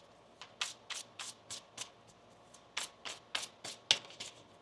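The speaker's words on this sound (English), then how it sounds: "One more shuffle here." A deck of tarot cards is shuffled by hand in a string of about a dozen sharp, close riffling bursts at an uneven rhythm, with no talk over them.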